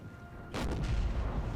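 Enemy cannon artillery fire in Napoleon: Total War, a sudden broadband boom landing about midway and rolling into a sustained, dense rumble of battlefield fire that stays loud to the end.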